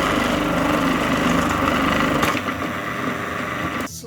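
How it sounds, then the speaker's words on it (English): A food processor slicing a carrot runs loud and close with a dense, rattling motor whir, then the chopping texture thins out toward the end as the load eases. "Here we go, slicing a carrot."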